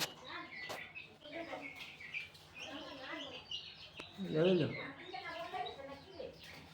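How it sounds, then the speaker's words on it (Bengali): Pigeons at a poultry farm, with a brief burst of cooing and chirping calls midway, close by, heard under ongoing talk. "এটা হচ্ছে আমার ফেভারিট পায়রা"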